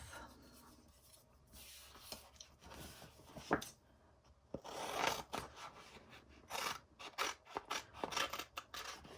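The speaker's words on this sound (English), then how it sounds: "I'm just going to trim this with scissors" Crisp snipping and rustling of scissors cutting through a plastic sheet, irregular cuts close up with soft handling noises between them.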